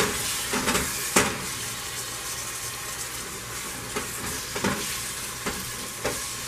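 Chopped tomatoes frying in a pan with ginger-garlic paste for mutton biryani, a steady close sizzle with a few soft stirring scrapes and clinks throughout.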